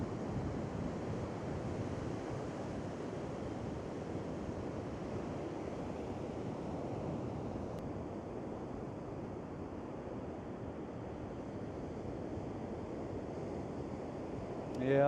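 Sea waves running onto a rocky shore where someone is fishing for cod among kelp, a steady broadband wash of surf with wind rumble throughout, continuous and fairly close, no talk.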